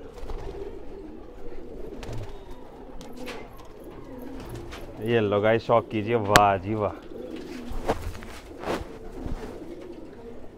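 Pet pigeons of a fighter breed in a coop, cooing repeatedly in a dense, warbling burst at close range, with someone talking over them before and after and other birds faintly in the background.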